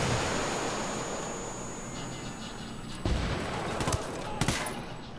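Gunfire from a gun mounted on a Raptor truck in a shooter video game, a few sharp distant bursts over a loud steady rumble of wind and engine noise.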